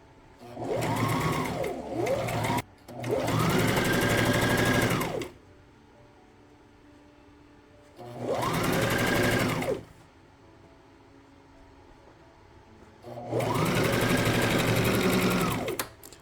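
A sewing machine stitches a two-tone flare skirt in three loud bursts of steady whirring separated by quiet pauses, starting and stopping as the stitch is locked and sewn.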